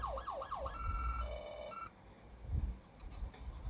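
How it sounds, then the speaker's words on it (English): An emergency vehicle siren from an EGPD police vehicle in the Roblox game, a fast sweeping wail followed by a steady high two-tone electronic pattern, loud and close, then cutting off into background noise. "These are EGPD vehicles, so the siren is still the same since the last update."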